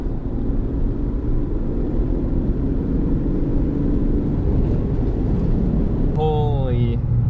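A lifted Ford Ranger cruises on the highway with a steady, dense road-and-engine rumble from inside the cab, and a brief tonal call sounds near the end.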